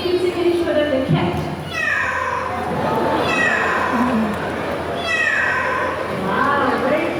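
A child imitates a fierce cat with drawn-out, rising and falling meows and growls at a bird park, loud and near, with other children's voices and crowd chatter around.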